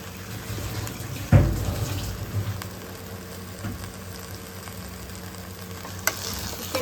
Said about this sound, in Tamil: சிக்கன் போட்டு நல்லா மிக்ஸ் பண்ணிக்கலாம்.